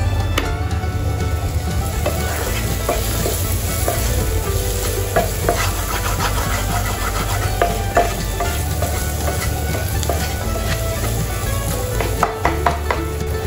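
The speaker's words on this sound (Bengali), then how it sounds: "আর একটু তেল দিয়ে দিলাম, এটা একটু ভালো করে ফ্রাই করতে হবে।" Onions fry in oil in a pan with a loud, steady sizzle, broken by occasional scraping clicks of stirring close by; no one talks.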